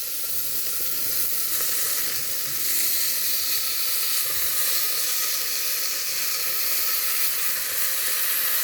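Washed rice and masoor lentils frying in a pot for khichuri give a dense, continuous close sizzle and hiss, steady and loud for the whole stretch with no voices.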